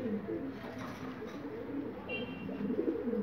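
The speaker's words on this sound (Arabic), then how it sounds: "ده زغلول قطاط يا جماعة ما شاء الله" A young qatqati pigeon gives soft, low, repeated coos at close range, faint and murmuring throughout the short stretch.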